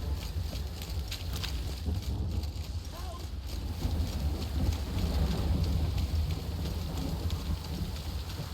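Steady game rain with a low rumble of thunder in The Witcher 3, a continuous wash of falling water over a deep bass roll that holds throughout, with faint voice sounds in the background.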